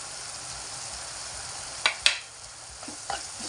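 Sprouts curry sizzles softly in a pan as turmeric is stirred in. A few brief scrapes and taps of a spoon stand out against the low, steady frying. No one talks.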